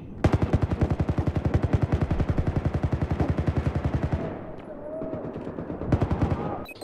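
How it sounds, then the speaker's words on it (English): Rapid automatic gunfire from Battlefield 4 on the Golmud Railway map, a loud, close, steady burst of evenly spaced shots lasting about four seconds, then a brief lull before another short burst. "I'm trying hard to like that gun, but I just can't."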